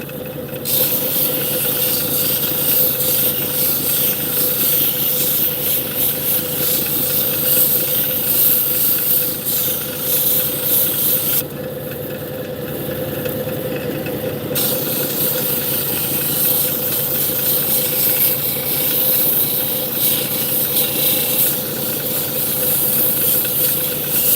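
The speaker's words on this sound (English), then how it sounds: "show you the comparison between that diamond wheel and this Nova 140 grit" Obsidian is ground on a Nova 140 grit wheel, a loud, steady hissing whir that runs continuously for the whole stretch with a brief change in tone partway through and no talking.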